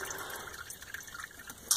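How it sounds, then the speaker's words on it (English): Motor oil pours steadily into a car engine, a continuous close liquid gurgle and trickle with no talk over it. "I'm pouring the oil right into the pan."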